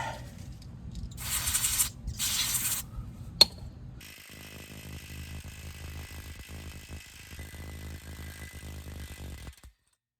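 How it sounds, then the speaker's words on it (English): Two short hissing bursts of penetrant lubricant spray from a can while replacing a 2011 Toyota Highlander CV axle, followed by a sharp click and a steady mechanical hum. "I'm going to spray some penetrant lubricant back in here where the line is"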